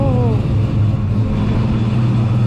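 A Vortec-supercharged 1990s Mustang with SVE components, its engine running loud and steady with a deep rumble throughout, at a crowded Mustang and Lightning truck cruise-in.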